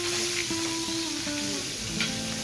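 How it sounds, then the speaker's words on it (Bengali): Pieces of katla fish sizzle as they fry in oil in a pan for a doi katla curry, a steady close hiss with faint clinks and stirring, no voices. "আমি মাছগুলো ভেজে নিচ্ছি বন্ধুরা। একই রকমভাবে আমি সব মাছ ভেজে নেব।"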